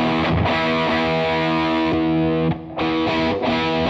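Electric guitar played through a Marshall Guv'nor-style distortion pedal, thick and heavily driven with sustained chords and a few brief gaps, loud and alone.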